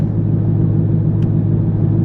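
Low, steady rumble of a C5 Corvette Z06 V8 engine idling as the clutch engages, a constant deep drone with a brief faint click partway through.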